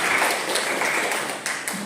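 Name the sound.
audience applause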